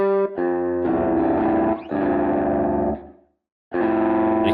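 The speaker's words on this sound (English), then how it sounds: "Got a rock guitar, so this one's going to have some distortion." A virtual rock guitar plugin plays heavily distorted sustained chords that ring out, break off briefly into silence, then return with another crunchy chord.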